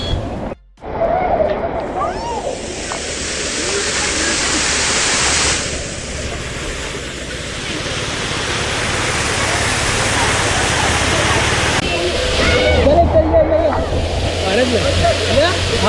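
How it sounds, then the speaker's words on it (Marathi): A large waterfall at Matheran roars as a steady broadband rush of falling water, loud and continuous throughout, with a short dip near the start and no voices over it. "हा एकदम जबरदस्त वॉटरफॉल आहे बघा बॅक साईडला"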